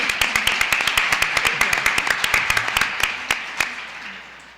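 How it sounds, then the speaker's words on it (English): Audience applause at a past lives and karma panel during a New Living Expo: a sharp, close rhythm of individual claps, about five per second, tapering off near the end. "So let's give a big applause to Lynette."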